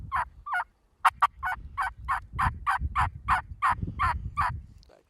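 Young wild turkeys (jakes) yelp in a rapid, evenly spaced series of loud, close calls during a turkey hunt, with a soft low rumble underneath.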